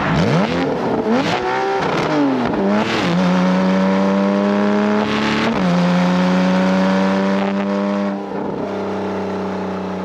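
A Porsche 911 991 with a titanium exhaust revs hard in several rising and falling sweeps, then settles into a steady high drone, loud and close with no talk.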